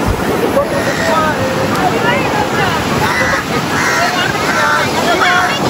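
Sea waves at Malvan beach, near a fort, wash in as a loud continuous surf roar with wind buffeting the microphone, while people's voices chatter over it throughout.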